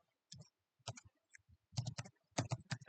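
Typing a Python print statement on a computer keyboard, heard as close, crisp key clicks in short bursts separated by pauses, with the bursts growing denser toward the end.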